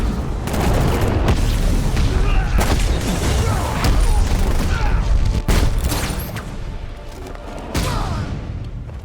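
Sustained gunfire and heavy booms from Batman: Arkham Knight on Miagani Island, a dense, loud barrage of shots and thuds running throughout with little letup.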